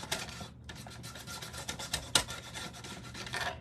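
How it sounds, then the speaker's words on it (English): An abrasive pad rubbed by hand across a craft surface for a faux stained glass cross, giving a continuous rasping scuff of quick back-and-forth strokes, close and fairly loud, with one sharper scrape near the end. "And I'm just gonna kind of scuff it up a little bit."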